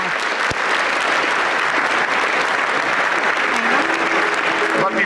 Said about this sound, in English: Let's hear it one more time for this year's winners.